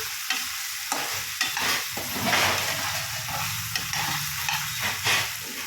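Onion, chili, potato and tomato cook in a pan for Maggi, producing a soft, hissing sizzle with periodic scraping stir strokes at a moderate distance and no talking.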